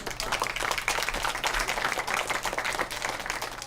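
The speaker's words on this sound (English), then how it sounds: "Let's give Ms. Nobles a round of applause." Audience applause after a guest is thanked on a community television program, steady dense clapping throughout at moderate level with some faint voices mixed in.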